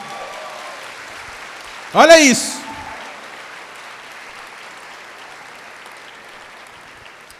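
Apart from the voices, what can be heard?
applause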